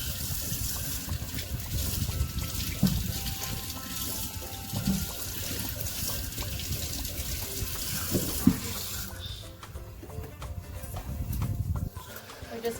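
Potatoes are washed under a running kitchen tap, a steady splash and trickle of water with occasional knocks and clatters from handling, close and moderately loud.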